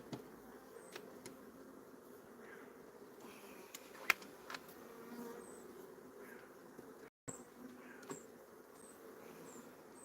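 Honeybees in a beehive produce a faint, steady buzzing hum with occasional light knocks and taps close by, quiet and without talk.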